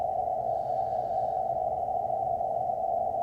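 A continuous CW Morse code tone on the 20 meter ham radio band, one steady loud pitch held throughout over faint background static.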